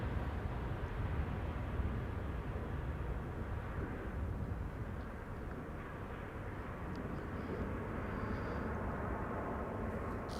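A Chinese Boeing 777 airliner at Amsterdam Schiphol Airport produces a continuous broadband engine roar. The sound holds steady throughout, with no speech.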